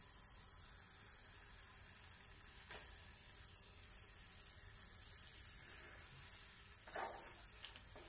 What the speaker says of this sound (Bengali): এবার আগে থেকে ম্যারিনেট করা মাংসটা এর মধ্যে অ্যাড করে